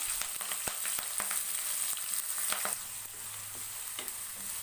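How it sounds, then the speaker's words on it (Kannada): Curry leaves crackle and sizzle in hot oil for poha upma, a bright continuous frying hiss broken by sharp spatters and a few spoon taps against the pan. "ಇದು ಎಣ್ಣೆಲಿ ಚೆನ್ನಾಗಿ ಫ್ರೈ ಆಗಲಿ. ಅದ್ರ ಜೊತೆಗೇ ನಾನಿಲ್ಲಿ ಕರಿಬೇವನ್ನು ಸೇರಿಸ್ತಾ ಇದ್ದೀನಿ."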